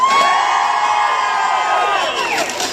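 An outdoor street crowd on Grafton Street, Dublin cheers and shouts loudly all at once, a burst of whoops and yells that holds for a couple of seconds before starting to fade.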